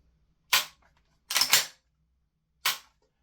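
Three sharp gas blowback shots from a Tokyo Marui AKM airsoft rifle fitted with an EMG Arms stock adapter, each a crisp crack with a brief clattering action, spaced about a second apart, with a double report in the middle and quiet between.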